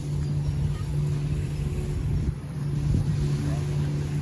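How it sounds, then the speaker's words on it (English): A steady low engine drone of a passing boat on a river at Walt Disney World, fairly close, with a continuous hum and light background noise throughout. "And here comes a boat."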